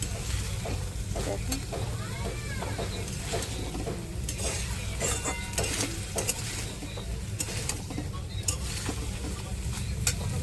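Boiled peas cooked down with spices for ghugni sizzle in a pan while a spoon stirs and scrapes in repeated clicks and knocks over a steady frying hiss.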